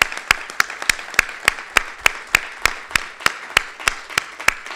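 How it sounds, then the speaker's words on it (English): Sharp, evenly spaced claps ring out at a steady rhythm, like a small group applauding in unison, fairly loud and close. "So a round of applause for them as well."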